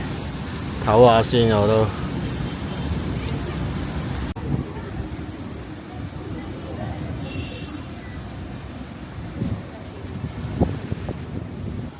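Rain patters steadily on a street in Suzhou near Shantang Street, a soft continuous wash with occasional drips, while someone speaks briefly at the start.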